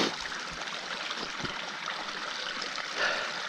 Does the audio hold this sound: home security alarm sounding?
no